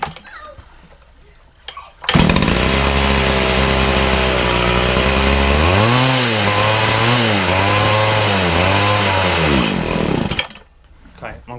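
A Makita petrol disc saw's two-stroke engine starts abruptly and runs loud and close for about eight seconds, its pitch rising and then wavering up and down as the throttle hunts, before cutting out.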